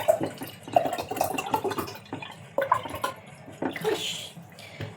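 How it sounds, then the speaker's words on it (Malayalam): Water splashes and gurgles into a container in uneven bursts, close up, with sloshing and dripping sounds. "സോ ഇനി നമ്മൾ നേരെ ഇതിനകത്ത് വെള്ളം ഒഴിക്കുകയാണ്."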